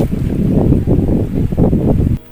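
Strong wind gusting outdoors on a farm in the provinces, a loud, steady low rumble of buffeting air against the microphone that drops away abruptly near the end.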